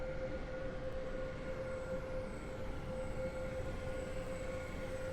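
A Class 802 train in the video game Stepford County Railway gives a steady, loud drone with a sustained tonal hum throughout, and no one speaks.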